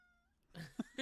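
A cat lets out a short, close meow, then a couple of brief chirping calls follow in quick succession after a faint tonal hum.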